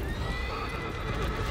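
A horse neighs in the video game Shadow of the Colossus, a loud, close whinny running steadily through the whole short moment over a dense game soundscape.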